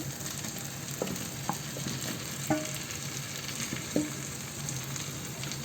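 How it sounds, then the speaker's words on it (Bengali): Washed fish hits hot frying masala in a pan, giving a steady close sizzle with a few soft thuds and clinks from handling, moderately loud and without talk. "এখন আমি ধুয়ে রাখা ইঠা মাছটাকে দিয়ে দেব"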